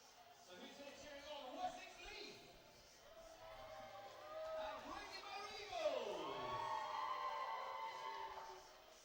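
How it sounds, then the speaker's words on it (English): Spectators at a women's U18 netball Grand Prix final cheer and whoop for both teams, with rising shouts and calls over a steady crowd murmur lasting several seconds. "Plenty of support in the crowd for both teams."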